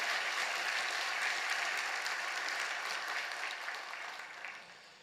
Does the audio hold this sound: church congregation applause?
yes